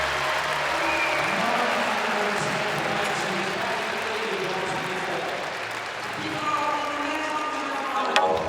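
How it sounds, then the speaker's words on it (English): A stadium crowd at a men's heptathlon pole vault in Glasgow roars and applauds for a cleared five-metre height, a broad steady wash of noise with a commentator talking over it. "nice roar from the crowd for that"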